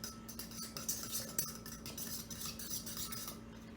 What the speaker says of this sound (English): We're just going to dump in a little bit and then mix that up until it's mixed up.